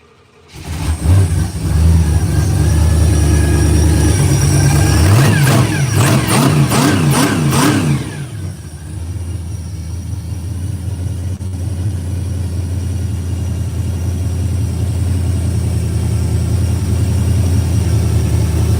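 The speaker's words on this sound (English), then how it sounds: "It's a noisy gear drive, a Pete Jackson noisy gear drive, and a blower." A loud, close supercharged car engine with a Pete Jackson gear drive revs hard with a whining edge for several seconds, then drops back to a steady rumbling idle.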